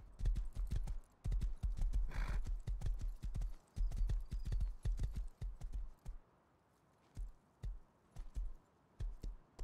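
Horse hooves clip-clop in Rust, a fast run of sharp clear hoofbeats that slows into scattered single steps. A brief snort sounds early on, and the hooves stand alone with no talk.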